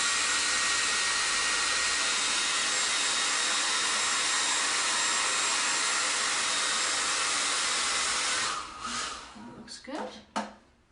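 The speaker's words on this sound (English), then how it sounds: "It doesn't take too long for this to dry up. I'm going to dry that a little bit more." A hair dryer drying poured paint on a craft project, blowing as a loud, steady, close whoosh for about eight seconds before shutting off, followed by a few faint knocks and handling sounds.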